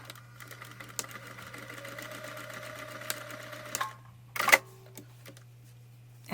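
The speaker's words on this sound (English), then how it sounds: "Clip it in place and sew along the gusset line." A sewing machine stitches along the gusset line of a crossbody bag with a steady, close whirring hum for about four seconds, then stops. A short clattering burst of fabric handling follows.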